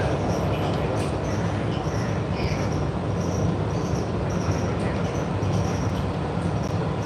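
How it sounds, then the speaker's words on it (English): A passenger train on the North Coast heard from onboard, a steady loud rumbling roar of the rail carriage with a faint high chirping or squeal laid over it throughout. "I'm on the train on the North Coast."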